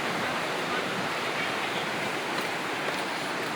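A river in Japan rushes along in a dense, steady broadband roar of flowing water, close and continuous with some wind buffeting, no talking heard.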